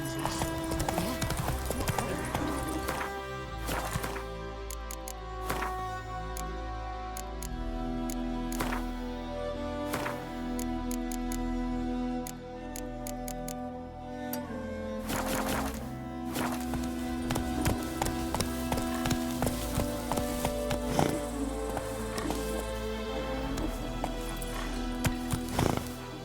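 Horse hooves clip-clop steadily through a fantasy game world in The Witcher 3, a walking rhythm running the whole time beneath a continuous music score, with a brief spoken command partway through.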